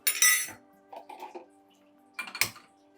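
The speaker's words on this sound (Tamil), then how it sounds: "ஒரு குட்டியாக ஒரு கடாய் எடுத்து வச்சுக்கோங்க" A small kadai is set onto a stove with a few light metallic clinks and taps, close and quiet, in short bursts with gaps between.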